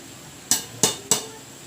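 A spoon strikes a cooking pot three times in quick succession while taro (gabi) is mixed for ginataang gabi, leaving short, bright metallic clinks with fading ring, close and clear against a quiet background.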